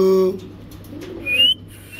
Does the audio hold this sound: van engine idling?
no